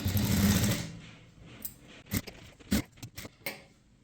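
A sewing machine stitches a blouse: a loud, steady run of needle stitching for about a second, followed by scattered clicks and short bursts as the fabric is adjusted.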